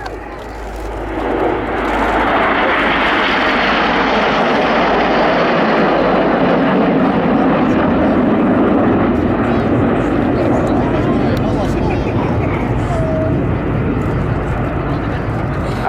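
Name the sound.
aircraft named Phoenix flying past at Cosford Air Show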